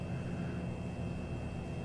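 Steady engine drone of an airplane touching down in Microsoft Flight Simulator 2020, an even low roar with a faint high whine held throughout.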